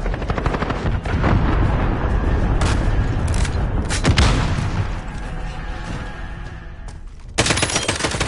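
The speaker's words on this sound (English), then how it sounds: "Enemy cruise missile incoming." Missile strike explosions and battle noise in the Modern Warfare video game form a loud, dense, continuous roar, with a few heavier blasts standing out near the middle and again at the end.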